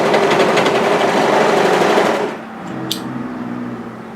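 A sewing machine stitches a side seam on a raglan top, a loud fast buzzing run for about two seconds that stops abruptly, followed by faint handling clicks.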